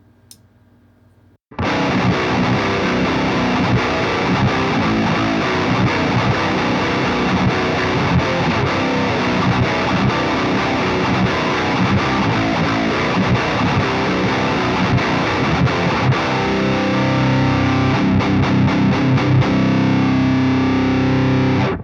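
Heavily distorted electric guitar through a Revv preamp pedal in its high-gain blue aggression mode chugs and rings out loud and continuous, a thick, saturated tone sustained for about twenty seconds without pause.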